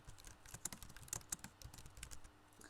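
Fingers tap out a short burst of keystrokes on a computer keyboard, quiet and close, in an irregular quick rhythm with no talking.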